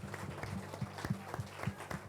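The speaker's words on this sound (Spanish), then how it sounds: "Muéstrale con tu aplauso tu gratitud." A church congregation applauding during a sermon, scattered clapping with irregular sharper claps and a voice running underneath.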